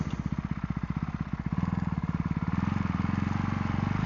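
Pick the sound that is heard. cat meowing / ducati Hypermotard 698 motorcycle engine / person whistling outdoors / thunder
ducati Hypermotard 698 motorcycle engine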